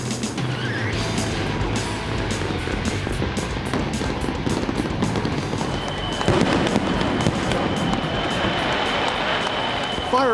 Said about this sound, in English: Fireworks burst in the sky as the field surges along both sides of Ala Moana Boulevard.